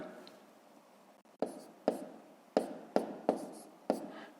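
Pen strokes on paper while writing numbers for a school multiplication exercise: six sharp taps and scratches spaced about half a second apart, close and clear over a quiet room, with no talking.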